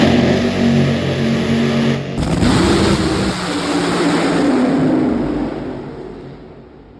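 A stock car at Bristol revs its engine loudly, then the pitch drops sharply and a rougher, rising roar builds before slowly fading away.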